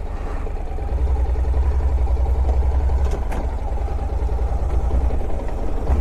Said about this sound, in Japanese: アクセルを少しだけ使います。